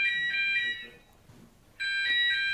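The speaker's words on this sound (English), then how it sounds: "Different alarms." An electronic alarm sounds in two bursts of shrill, steady multi-tone beeping separated by a short quiet gap, loud and close.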